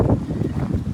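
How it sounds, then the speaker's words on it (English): Strong gusty wind buffeting a Wanderlodge motorhome on a test drive, a loud low rumbling roar with pulsing gusts, heard alone without talk. "Super windy today, 45 mile an hour gust, 15 to 18 mile an hour sustained winds."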